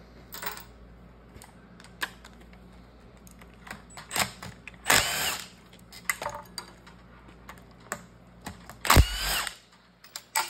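A power tool spins out 15 mm tail housing bolts on an NV5600 transmission, heard as two sharp, close bursts of whirring and rattling, with light clinks and handling noises around them.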